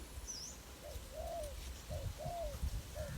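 A spotted dove coos in short, soft, hollow phrases, several repeated calls in a loose rhythm at moderate distance over low outdoor background noise, with a faint higher chirp early on.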